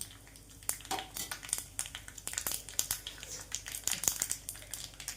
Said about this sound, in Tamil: கடுகு பொரியிற சவுண்டு வருது பாருங்கள்